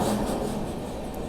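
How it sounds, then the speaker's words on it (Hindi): Rumble and rattle of the Patna Express running at speed, heard from inside a first class coach as a steady, dense, close roar with faint rhythmic clatter. "अपनी ट्रेन बिल्कुल कंटिन्यूस 130 की रफ्तार में जो है वो चल रही है"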